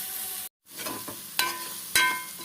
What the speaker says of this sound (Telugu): అల్లం వెల్లుల్లి పేస్ట్ వేసుకొని పచ్చివాసన పోయేదాకా వేపుకోవాలి